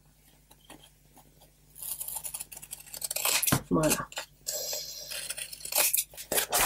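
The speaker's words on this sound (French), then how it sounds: "Hop, une paire de ciseaux." Scissors cut thin 0.5 mm cardboard for an autumn mini album, sharp crisp snips and rustling in close bursts after a quiet start, with a voice speaking briefly.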